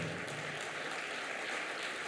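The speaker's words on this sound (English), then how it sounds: "receive a standing applause from you" A gala audience gives board members a standing ovation, a dense, steady wash of clapping that holds at an even level throughout with no voices.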